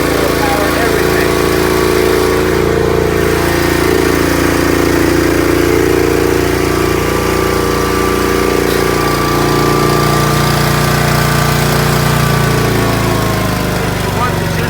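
A Generac portable home generator drones loudly and steadily at close range, its engine holding an even, unbroken hum throughout.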